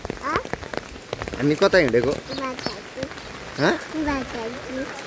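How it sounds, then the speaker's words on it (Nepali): Rain falling steadily during a flood in Kathmandu, a constant patter beneath close voices that talk throughout. "पानी परिरहेको छ।"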